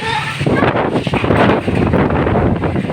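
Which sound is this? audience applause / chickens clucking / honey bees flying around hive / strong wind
strong wind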